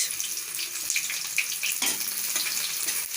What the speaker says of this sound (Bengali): এটা আমি 30 সেকেন্ডের মতো ভেজে নেবো